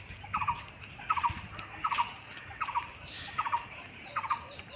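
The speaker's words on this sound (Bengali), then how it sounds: "কি সুন্দর পাখি ডাকছে দেখুন" Birds in a village call with short, sharp repeated phrases, about six evenly spaced bursts over a quiet rural morning backdrop, fairly close and unaccompanied by talk.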